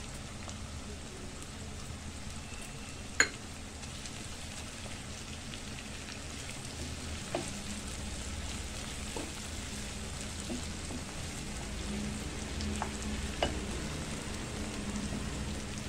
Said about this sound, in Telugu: కొంచెం లైట్ బ్రౌన్ వచ్చేంత వరకు ఇట్లా వేపుకోవాలి కొద్దిగా.